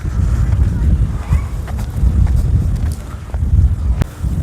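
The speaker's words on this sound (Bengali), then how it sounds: "নদীর হাওয়া অসাধারণ লাগছে" Wind buffets the microphone on the bank of the Hooghly river, a loud continuous low rumble with gusty swells and a few faint knocks.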